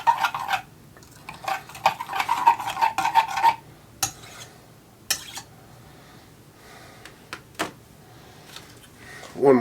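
Melted plastic is scraped and stirred in a cup for fishing bait, coming in bursts of rasping strokes and clinks, with quiet pauses and breathing between them.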